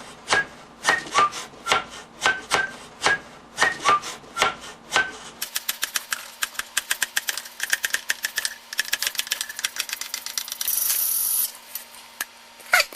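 A blade cutting the bottom off a cardboard box, first a series of evenly spaced sharp cuts, then a rapid run of quicker crunchy strokes close by with no talking.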